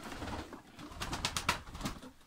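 Domestic fighting-breed long-lived pigeons coo close by in a repeated, soft, throaty rhythm. A few brighter chirpy calls cut in partway through, with no talking.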